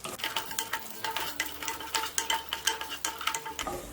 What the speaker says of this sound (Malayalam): ഇനി ഇതിലേക്ക് കുറച്ച് കാഷ്നട്ടും കിസ്മിസും കൂടിയിട്ട് ഫ്രൈ ചെയ്തെടുക്കാം.